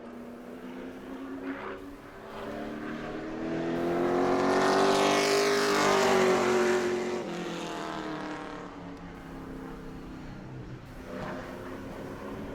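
A Pro Late Model race car on a qualifying lap at New Smyrna rises in pitch and volume as it approaches, roars past at full throttle, then fades into the distance, with a faint second engine in the background.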